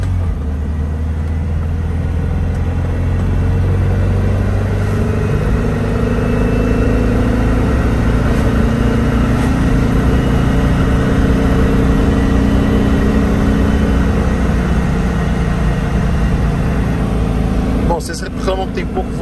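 A Volkswagen Fusca (Beetle) engine runs with a loud, steady low rumble and drone throughout, close by, without clear changes in pace, and ends with a brief rattle near the close.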